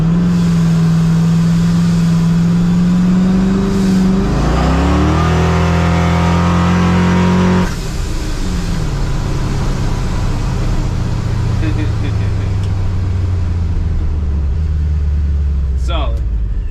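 A built truck with a D1 ProCharger supercharger running E85 and dual fuel pumps revs hard, its engine pitch climbing and falling in loud sweeps, then settling into a lower rumble that fades back toward idle.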